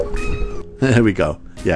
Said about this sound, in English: she's cuddling the microphone and meowing at my face